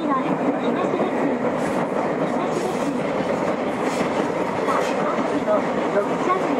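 A Nagoya Municipal Subway 2000 series car with IGBT retrofit runs between stations. A loud, continuous rolling roar of wheels and motor fills the cabin from start to finish, with faint rhythmic clatter underneath.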